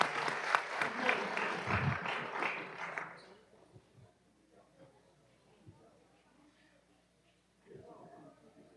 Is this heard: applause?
yes